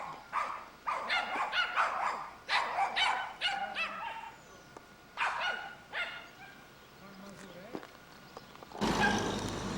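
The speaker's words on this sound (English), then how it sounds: "The sounds of dogs is always the same." Dogs barking in a village near Deblin, Poland: a run of sharp, repeated barks in quick bursts, fairly close and loud, with a pause and a whimper-like sound before a rustle at the end.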